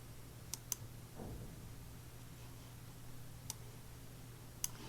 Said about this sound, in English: I'm going to double click that, let it install it on the computer.